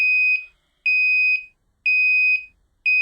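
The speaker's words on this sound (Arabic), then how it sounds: "يظل يدق جرس" A shrill electronic alarm from an engine and generator overheat protection device, sounding in evenly spaced bursts, about half a second each with short gaps, loud and close.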